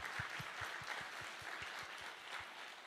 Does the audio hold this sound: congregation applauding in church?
yes